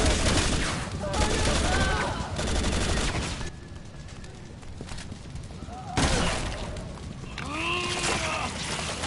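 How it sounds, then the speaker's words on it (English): Assault shotgun blasts in Resident Evil 6, loud bursts of gunfire and crashing impacts repeating through a chaotic fight, with game voices in the mix. "I'm gonna go ahead and stick with the assault shotgun for now"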